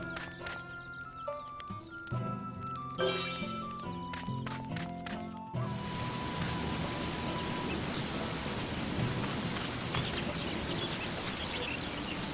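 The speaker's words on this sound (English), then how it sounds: "And of course it's raining." Music from the video game Sakuna: Of Rice and Ruin plays briefly with tonal notes, then gives way to a steady, dense hiss of heavy in-game rain that continues to the end.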